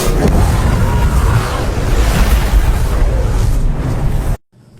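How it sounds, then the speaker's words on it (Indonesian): A loud, sustained explosion from the 1453 siege of Constantinople roars with heavy low rumble for several seconds, then cuts off abruptly into silence. "Dan ledakan pun terjadi."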